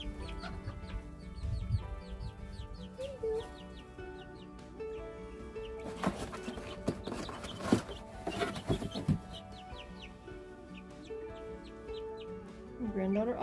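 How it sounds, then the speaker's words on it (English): Little chicks and chickens cluck and peep on a farm, soft scattered calls under rustling and clattering handling noise, with occasional voices in the background. "we got some new additions to the farm. Some new little chicks."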